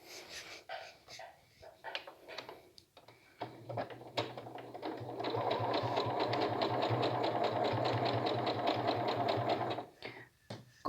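After a few faint handling taps, a sewing machine stitches a knit fabric collar with a one-centimetre seam, a steady close mechanical whir running for about five seconds before stopping.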